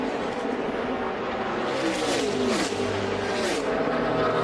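NASCAR stock cars racing through a corner, a dense roaring engine wash with swelling pass-by surges near the middle and end, loud and continuous, with faint commentary underneath.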